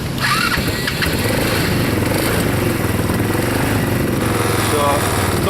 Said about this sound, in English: So it says clips connected, please start the vehicle within 30 seconds.